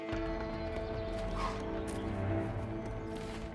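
Horses in a barn in the video game A Way Out, with hoof clops and shuffling over a steady ambient hum, fairly close and brief, with no speech.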